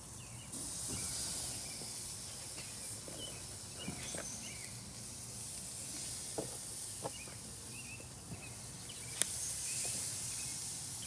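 Pork chops sizzle on a Char-Broil grill grate sprayed with a little Pam, cooked hot and fast: a steady, close hiss runs throughout, with a few faint pops and ticks.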